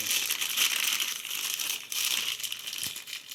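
A plastic sack around a replacement steering box for a 2001 Dodge Ram 2500 4x4 crinkles and rustles close up as it is opened. The crackling is continuous and bright, with a few sharper crunches and no speech.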